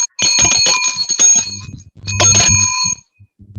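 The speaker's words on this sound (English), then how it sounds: "That bell means you should be running up." Bell rung at an anniversary gathering: two bursts of rapid, bright metallic ringing, each about a second and a half long, loud and close, separated by a short pause with some low background murmur.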